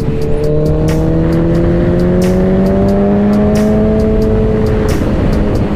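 A Suzuki Hayabusa motorcycle being ridden in winter, its engine a loud, steady drone with tones rising slowly as it accelerates, over constant wind rush and road noise.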